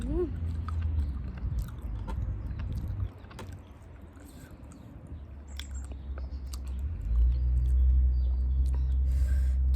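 Close, wet chewing and biting of spicy fresh shrimp dressed in fermented fish sauce with lots of chili, steady mouth sounds running throughout with a low background rumble growing louder toward the end.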